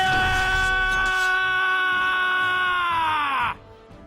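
A Dragon Age: Origins character lets out a loud, sustained scream that holds strong for about three and a half seconds, then cuts off abruptly, leaving quiet background.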